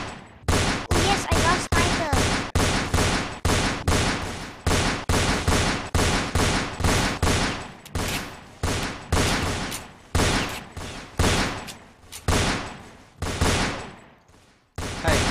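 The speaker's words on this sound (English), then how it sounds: "Who's shooting?" Rapid bursts of video game gunfire from Roblox Fortnite Simulator, including rocket launcher and sniper weapons, crack out in a long string of loud, sharp shots at an uneven pace that runs the whole time.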